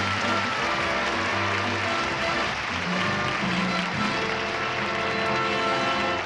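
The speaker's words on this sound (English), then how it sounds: "A nice round of applause for Doug." Sustained applause from a TV game show studio audience, dense and steady clapping throughout with no pauses, fairly loud and close.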